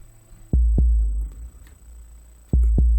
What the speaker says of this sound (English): I'm going to add my reverb onto the heartbeat.